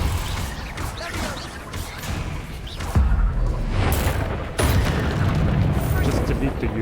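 A Repulsor spell cast in the video game Hogwarts Legacy lands as heavy, booming blasts with sharp crash onsets, one around the middle and another shortly after, over dense rumbling game action with a voice talking.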